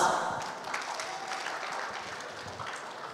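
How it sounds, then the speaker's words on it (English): An audience applauds the winners of a virtual student opinion competition, steady clapping that begins strongly and slowly fades over a few seconds. "Please give applause."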